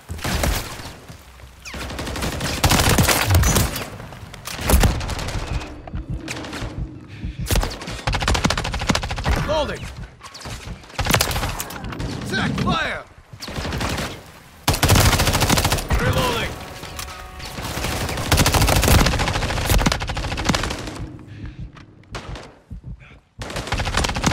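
Dense video-game gunfire fills the scene, with rapid automatic bursts and overlapping shots coming in uneven waves, loud and close, with occasional game voice lines between the volleys.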